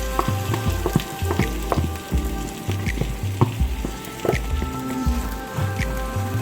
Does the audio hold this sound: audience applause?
no